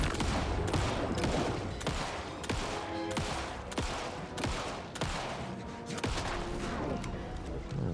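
Rapid, steady video-game gunfire, with sharp shots repeating about every half second over a dense, continuous backdrop of combat noise, moderately loud and without pause.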